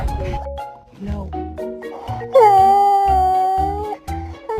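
A newly adopted pet dog howls in a long rising and falling wail, close and loud, after a stretch of whimpers and shorter vocal sounds.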